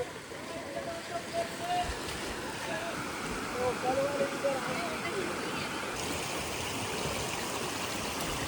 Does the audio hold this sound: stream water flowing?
yes